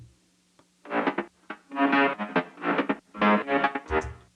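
A distorted synth lead in FL Studio plays a series of short, choppy phrases with pauses between them, buzzy and upfront, with no voices.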